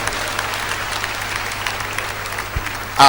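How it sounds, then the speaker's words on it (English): A church congregation at a Feast of the Holy Family service gives a child a round of applause: dense, steady clapping from many hands that holds evenly for several seconds. "Give him a round of applause"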